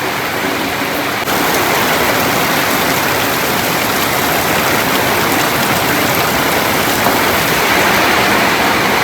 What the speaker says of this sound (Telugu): ఉప్పు ప్యాకెట్ తెద్దామంటే వర్షం బాగా వస్తుంది